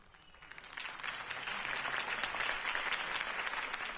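A crowd applauds at a campaign speech in the Batman Telltale video game, a dense, sustained wash of clapping that swells and stays steady throughout.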